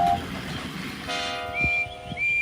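A train whistle sounds in a steady, sustained tone, then a second higher whistle joins, over the rumble of a moving train.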